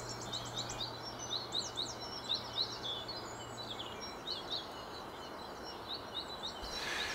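Birds sing outdoors in a quiet natural spot, with short chirps and whistled phrases repeating in bursts over soft background ambience, moderately distant and without any speech.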